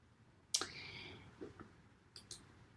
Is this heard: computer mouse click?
yes